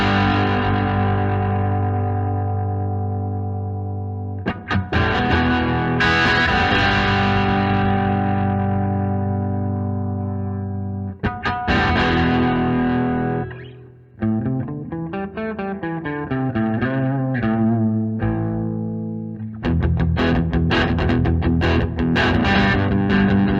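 Heavily distorted electric guitar through a Dark Matter distortion pedal plays sustained chords and a few bending riffs, loud and saturated, with brief pauses between phrases.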